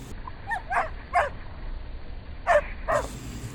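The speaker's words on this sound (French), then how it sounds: "Il appela le chien Mandibule et passa les 2 semaines suivantes à l'entraîner." A dog gives several short barks and yips, then whimpers, in quick separate bursts spread over a few seconds. The sounds are fairly close and clear, with no talking, set inside a read-aloud children's story.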